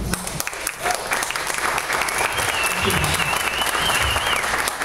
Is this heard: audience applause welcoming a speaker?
yes